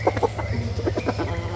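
A chicken clucks in a quick, uneven run of short bursts, close and clear over a steady low background hum.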